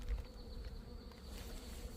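Honeybees buzz steadily at an open hive during late-winter inspection, a dense, continuous hum of many insects close by, with no talking.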